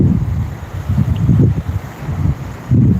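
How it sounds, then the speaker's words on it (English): Gusting wind roars against the microphone at night by the sea, with low rumbling surges of breaking waves rising and falling in loud pulses. "it's windy, and the wind is whistling, and the waves are breaking."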